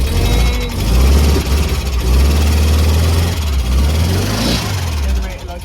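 A 1972 VW Beetle with a 1300 engine rumbles at a low, steady idle up close, its deep throb swelling and dipping slightly as someone speaks over it.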